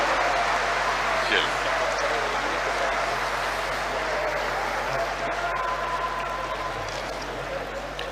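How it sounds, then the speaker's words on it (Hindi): Applause greets the Chief Minister of Bihar at a job appointment letter ceremony, a steady, dense clapping from a large crowd that fills the whole stretch at even loudness. "जोरदार तालियों के साथ माननीय मुख्यमंत्री महोदय का अभिनंदन।"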